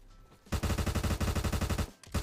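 Rapid automatic fire from a Honey Badger rifle in the Roblox shooter Bad Business, fitted with a 40-round magazine and vertical grip, a steady loud burst of about a dozen shots, a brief pause, then firing resumes.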